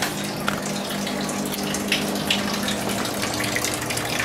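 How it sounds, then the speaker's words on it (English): Kitchen tap running in an Italian restaurant, a steady loud gush of water that continues throughout with a few faint clinks. "The water's on."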